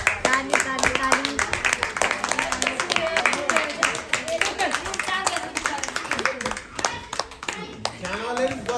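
Family members clap together at a Secret Santa gift exchange, a run of quick, uneven claps close by with lively voices talking and cheering over them.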